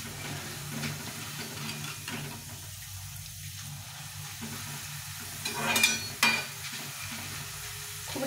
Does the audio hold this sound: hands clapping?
no